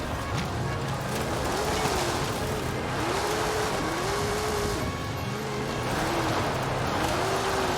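Off-road Ford F100 truck in Forza Horizon 5 drifting, its engine droning steadily with rising and falling rev sweeps and a continuous loud mechanical roar throughout, no pauses.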